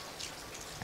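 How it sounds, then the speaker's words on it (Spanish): Rain falls steadily outdoors in Villa Mañihuales, a soft, even patter and hiss that stays faint and unbroken through the moment, with no voices. "está lloviendo bastante"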